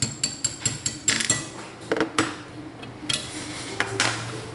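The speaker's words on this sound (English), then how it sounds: "Position the rear pin over that hole, take your punch and your hammer, tap it right out." Hammer and punch tap a trigger pin out of a CZ 452/455 rifle, giving a string of sharp close metallic ticks in uneven rhythm over a faint mechanical hum, with no talking.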